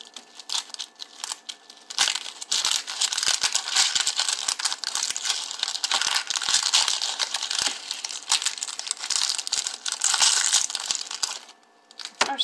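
A medium-sized onion being peeled by hand, its dry papery skin crackling and crinkling in close, continuous bursts with brief pauses, no talking.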